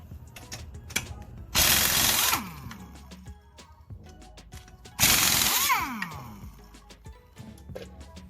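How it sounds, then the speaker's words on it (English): Two loud bursts from an impact wrench take the lug nuts off a vehicle's wheel, each lasting about a second and winding down afterward. Between the bursts come scattered clicks and clanks of metal close by. "Watch as I remove this wheel."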